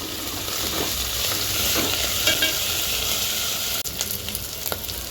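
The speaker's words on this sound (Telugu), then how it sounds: "స్టవ్ పెద్దగా పెట్టుకొని ఎర్రగా వేంపుకోవాలి" Coriander, mint and curry leaves fry in a pan over a high flame, giving a dense, close crackling sizzle with a few sharp pops and utensil clicks near the end, and no voices.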